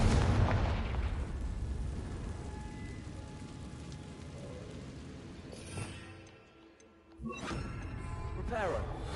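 A Confringo fire blast spell in Hogwarts Legacy lets off a heavy, booming explosive burst up front that rumbles and decays, followed by smaller crackling impacts and a fresh surge near the end.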